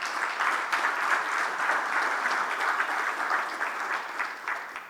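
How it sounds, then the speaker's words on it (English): A large crowd applauds at a cricket league opening ceremony in a stadium, giving a dense, steady roar of clapping that holds at an even, loud level throughout. "Can we have a round of applause for Mr. Advocate Ashish Shelar."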